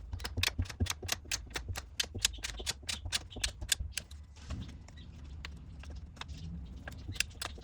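A torque wrench ratchets rapidly while tightening a drain plug on a Cadillac Escalade transfer case, producing a close series of sharp clicks that stops about halfway through and gives way to quieter shop handling noise.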